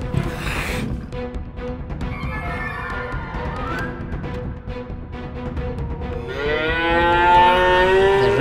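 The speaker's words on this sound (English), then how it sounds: "The rest of the cows are frightened." Frightened cattle on a farm moo loudly and repeatedly during a leopard attack, with long bellowing calls that overlap one another and grow louder and more strained toward the end.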